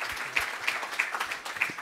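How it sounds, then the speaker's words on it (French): Audience applause at a financial awards ceremony, a brief steady patter of many hands clapping in a room, moderately loud and close, with no talk over it. "On peut les applaudir,"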